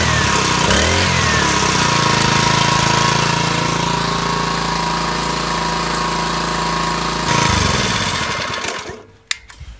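An All Power 2000psi pressure washer's small gas engine runs while warming up, holding a loud, steady mechanical drone that cuts off sharply near the end.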